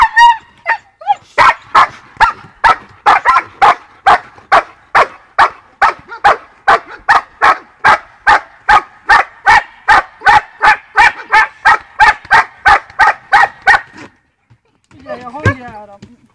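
A dog standing on a table during training gives a long run of about thirty sharp, evenly spaced barks. After a short pause there is a brief higher whine or voice-like sound at the end.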